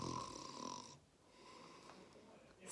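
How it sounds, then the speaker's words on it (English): Snoring coming from inside the cockpit of a Spitfire aircraft, a drawn-out rasping breath in the first second, a pause, then a softer second snore, moderately faint. "It was the sound of snoring."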